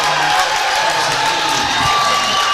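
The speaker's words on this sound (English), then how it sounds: "here the crowd cheering for some Wasatch kids getting into the game" A packed gym crowd at a varsity high school boys basketball game, Wasatch against Springville, cheers and whoops loudly and continuously, a dense wash of voices with no break.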